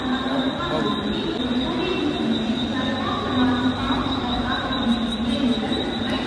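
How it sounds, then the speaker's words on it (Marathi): A Vande Bharat train runs on the railway with a steady rumble and high metallic wheel squeal sustained throughout, at moderate distance and fairly constant in loudness. "मला इथे ना वंदे भारत ट्रेन दिसले"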